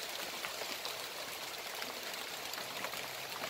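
Rain pouring steadily on an avocado orchard in Lampung, heard from a shelter hut, a dense even hiss with scattered drop patter and no talk.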